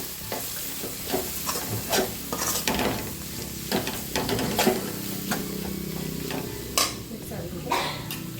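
A spoon stirs peas and carrot chitranna in a pan with a soft sizzle underneath, scraping strokes coming in irregular bursts close by, with a few sharper clinks of utensil against the pan.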